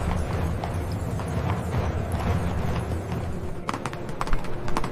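Horse hooves clip-clop steadily as a rider enters conquered Constantinople in 1453, a continuous rhythmic clatter of hoofbeats over a busy crowd-like background.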